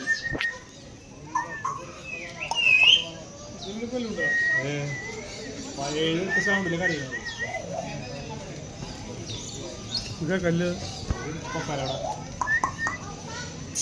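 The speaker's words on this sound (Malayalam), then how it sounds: "ഇതൊന്നും നോക്കിയേ, കുറേ പലതരത്തിലുള്ള ശബ്ദങ്ങൾ ഉണ്ടാക്കണ പക്ഷി." Birds call at a large bird park in Malaysia, varied whistles and squawks close and in the distance, heard under people talking.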